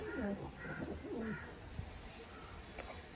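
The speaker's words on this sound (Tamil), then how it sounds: "இதெல்லாம் குட்டி புறாக்கள் அப்படிதானே?" Pigeons at a training loft cooing in soft rolling bursts, several close coos in the first seconds, then quieter rustles and a faint chirp; no clear speech.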